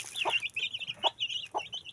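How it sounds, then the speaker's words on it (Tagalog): Backyard chickens and young chicks clucking and squawking nearby while being fed, a few sharp calls spaced out over a steady background of softer bird chatter. "Pinapakain ko na yung mga manok ko."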